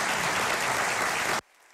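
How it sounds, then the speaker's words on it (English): Applause from the gathering at a congressional swearing-in ceremony in a downtown Honolulu federal court, a dense, even wash of clapping that cuts off abruptly into near silence. "A big round of applause for Representative Mark Takai"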